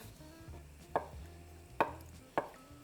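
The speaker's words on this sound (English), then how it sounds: "I've got a couple blocks of firm tofu, and we're going to keep this nice and simple and just cut them into quite large cubes." Knife cutting blocks of firm tofu into large cubes on a board, three distinct close chops with pauses between, no talking.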